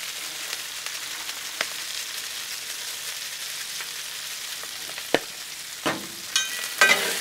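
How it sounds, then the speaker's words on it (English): Thin-sliced meat for cheesesteak sliders fries in butter and oil on a Blackstone griddle, a steady soft sizzle broken by a few sharp spatula scrapes and taps near the end, with no talking. "Get them mixed around real good, that butter and that oil."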